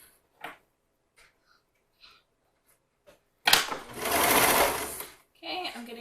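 A sewing machine stitches a seam on swim bottoms in one close, steady whirring burst of about one and a half seconds, followed by a shorter run, with quiet clicks and handling noises in the pauses before it.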